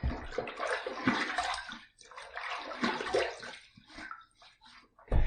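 Cold water splashes in repeated, uneven handfuls as a face is wetted before a shave, close and fairly loud, with brief pauses between the splashes.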